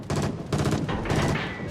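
Rapid naval gunfire from several warships in a World of Warships-style battle, near and loud, with dense overlapping salvos and booming bursts rolling continuously and without pause.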